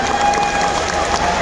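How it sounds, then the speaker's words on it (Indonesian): A crowd claps and cheers briefly at the CGC Borneo Championship event, a short burst of applause from a large gathering with a faint tone ringing over it. "Tepuk tangan untuk kita semua."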